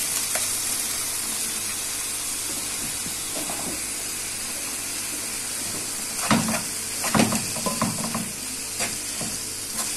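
Herbs and spices fry in a hot pan with a steady sizzle and hiss, while a few stirring scrapes and clinks stand out near the end, close and continuous.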